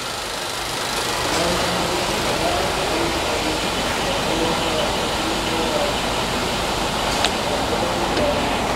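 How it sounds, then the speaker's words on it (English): An Acura ILX car engine idling close by, heard as a steady, even rumble and hiss that holds at one level for several seconds. "Car running right now, idling."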